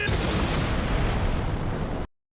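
Anime artillery fire: a loud, dense barrage of rumbling blasts fills about two seconds and then cuts off abruptly into silence.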